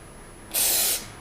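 Pam cooking spray sprayed onto the sides of a dish for meatloaf, a single close, steady hiss lasting about half a second that starts and stops abruptly.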